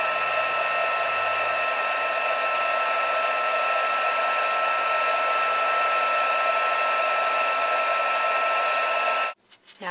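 A heat tool blows steadily and loudly for nearly ten seconds while embossing ink on paper, a constant airy whir that cuts off abruptly at the end.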